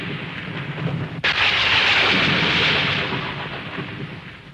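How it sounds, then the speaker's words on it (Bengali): Outdoor rain and thunder in a film scene: a sudden sharp thunderclap bursts in, then a loud, sustained roar of heavy rain fills the rest, with no voices. "বাইরে তো বৃষ্টি হচ্ছে"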